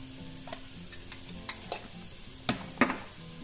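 Seasoning and stuffing mixture being stirred in a bowl with paprika, black pepper and salt, soft scraping and a few light clinks of a spoon against the dish, fairly quiet and close.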